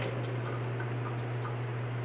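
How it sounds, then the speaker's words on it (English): Water poured off soaked organic raisins, a steady close trickle and splash of liquid running out, with faint drips over a low background hum. "I am going to pour the water off."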